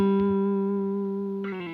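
An electric guitar blues lick rings out with a distorted, sustained note that slowly decays, then a fresh attack enters near the end, loud and close with reverb.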